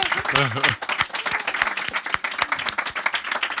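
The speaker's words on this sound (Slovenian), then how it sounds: "dajmo en aplavz" Audience applause at an intimate VIP concert in a radio studio, sharp distinct claps from a smallish crowd; a voice speaks briefly at the start and chatter carries under the clapping.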